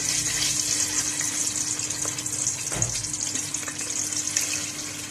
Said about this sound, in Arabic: اول معانا الثوم سخن كده مع الزيت